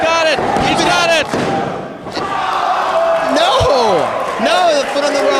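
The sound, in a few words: wrestling crowd gasping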